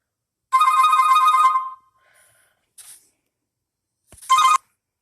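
A mobile phone ringtone sounds loudly for about a second, then breaths and a short sound follow, and a brief second burst of ringing plays near the end.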